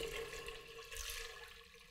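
Hot water is dumped out of a container used for sous vide egg pasteurizing, a steady watery pour and splash that runs alone and close for about two seconds.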